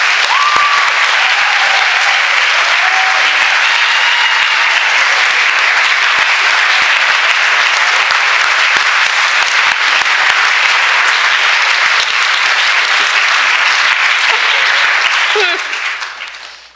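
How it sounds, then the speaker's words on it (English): A church congregation at a Sunday coming-of-age service gives sustained, dense applause, a steady wall of clapping from many hands that carries on for about fifteen seconds before fading out. "How about another round of applause before the next one?"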